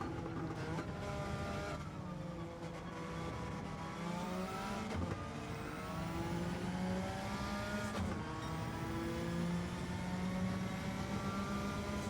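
A Suzuki Swift race car in Gran Turismo 7 during a Le Mans race: an engine wails through repeated rising revs and gear changes, continuous and up close, with no talking.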